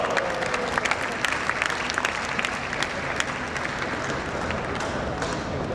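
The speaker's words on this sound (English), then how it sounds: "A big round of applause." Dense, sustained applause from a large audience at a conference session fills the space evenly, with individual claps crackling throughout at a steady loudness and no speech over it.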